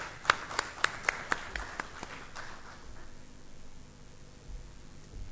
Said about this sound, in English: Ladies and gentlemen, a round of applause for Bharat Balachandran.